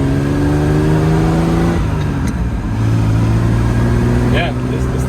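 A 1967 Austin Healey 3000 engine drops from fourth to second gear, a steady mid-pitched drone shifting tone partway through, close and loud with wind and road noise, while someone talks over it.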